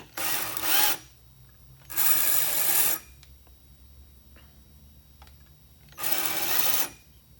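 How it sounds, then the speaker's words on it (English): A file is dragged across the edges of piston rings for a nitrous or turbo engine build in three separate bursts of close, loud rasping scrapes, each about a second long, with quiet pauses between. "And file the edges down."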